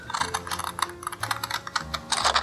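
Scissors snip through a strip of paper for making paper beads, a dense run of quick, crisp clicks and crunches close to the listener with no talking.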